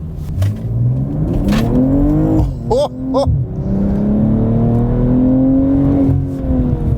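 A 2022 BMW M240i xDrive Coupe in sport mode accelerates hard, its engine rising in pitch through quick gear changes, loud and close from inside the cabin.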